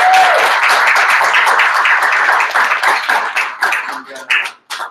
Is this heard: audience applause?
yes